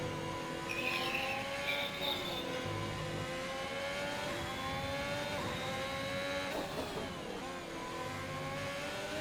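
A Haas Formula 1 car in a racing video game, its engine note rising and falling steadily through a qualifying lap at Belgium, loud and continuous with gear-shift dips and a faint tire squeal.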